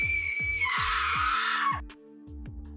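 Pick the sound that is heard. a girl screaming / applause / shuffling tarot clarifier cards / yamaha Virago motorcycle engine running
a girl screaming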